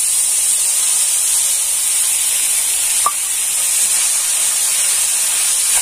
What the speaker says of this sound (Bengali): আদা দিয়ে মশলাটা ভেজে নিয়েছি